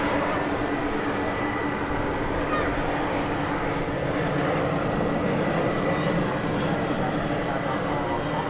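A Delta Airbus A321 arriving from Atlanta lands at Dallas Fort Worth Airport at night, making a loud, continuous jet engine roar that holds steady throughout, with a voice talking over it.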